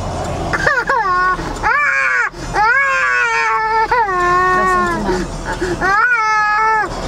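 A toddler throws a huge tantrum in a car stopped by the roadside, wailing loudly in long, rising and falling cries with short gasping breaks, close and dominant for the whole stretch.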